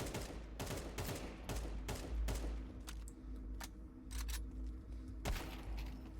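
Gunfire from the video game Counter-Strike 2 comes in several sharp bursts and single shots, fairly faint and irregularly spaced, with short gaps of quieter game ambience between them.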